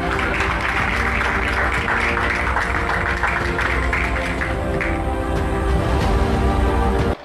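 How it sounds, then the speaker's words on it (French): A studio audience applauds the host during a live talk show, with a dense, steady wash of clapping that carries on for several seconds and then cuts off abruptly. "Applaudissez pour l'animateur"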